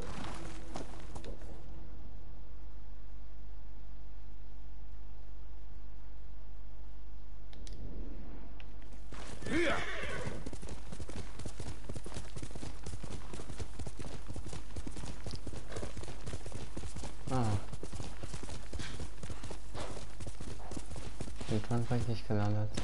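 Horse hooves clip-clopping steadily, with a brief whinny, from the samurai game Ghost of Tsushima, mid-loud and continuous after a quiet opening, with game music and ambience mixed in.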